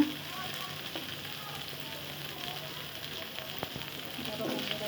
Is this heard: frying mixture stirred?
yes